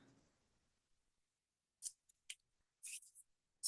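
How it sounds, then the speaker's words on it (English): Scissors snip through a scrap strip of paper, several crisp, close cuts in quick irregular succession after a quiet pause, with nothing else heard. "take a little scrap strip of paper, and we're going to cut this down to the height of the cover"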